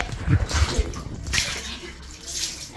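Water splashes and pours in uneven bursts while a powdered cat is bathed, close and moderately loud, with brief gurgles and no clear speech.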